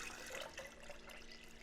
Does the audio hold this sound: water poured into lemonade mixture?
yes